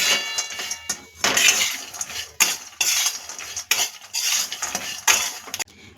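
Fried masala peanuts being tossed with red chili powder and chaat masala, heard as repeated rattling, clinking bursts of nuts and spoon against a metal bowl, close and rhythmic.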